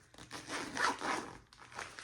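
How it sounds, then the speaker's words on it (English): A zipper slides along a plastic reusable bread bag made of swimming-pool-like material, a close rasping run of about two seconds with a brief break before a short final pull. "And then it's got a zipper."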